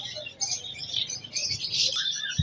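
Pet birds, including doves and a lutino breeding pair, chirp and tweet busily at a Sunday bird market in Bahawalpur, with close, overlapping calls.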